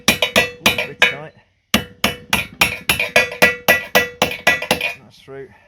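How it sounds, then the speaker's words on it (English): A small pick hammer taps a glass windbreak panel into its fitting on a decked area, giving over a dozen sharp, bright, ringing metallic-glassy clicks in a steady rhythm, close and loud, with a brief pause partway through. "I'm just going to use a little pick hammer. Tap that in."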